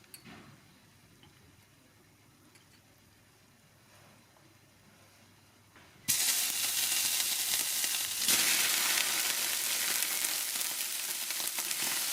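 Minced garlic frying in oil in a pan for an Italian-style aglio e olio with shrimp, a faint low hiss at first that jumps abruptly into a loud, dense, steady sizzle for the second half.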